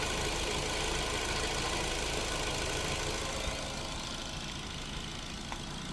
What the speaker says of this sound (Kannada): ಇದು ಬಂದ್ಬಿಟ್ಟು K12 4 cylinder engine, full smooth engine ಇದೆ